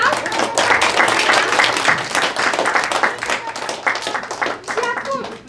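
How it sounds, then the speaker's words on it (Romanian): Children clapping and applauding at a storytelling session, a lively irregular burst of hand claps with voices mixed in, fairly close and steady before thinning out. "Ia pe aici și voi puteți să aplaudați?"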